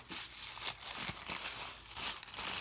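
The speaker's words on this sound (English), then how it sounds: "Cut a square that's larger than your project and crumple it." Gift-wrapping tissue paper being crumpled by hand for a faux silk card technique: steady crinkling and rustling bursts across the whole stretch, close and fairly loud, with no talk.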